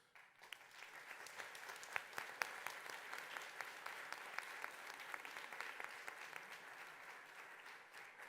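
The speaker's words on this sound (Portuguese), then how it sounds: "As palmas são para vocês" A congregation of volunteers applauds inside the Basilica at the Fatima Sanctuary, a quiet, distant but dense wash of clapping that holds steady for several seconds in the reverberant space.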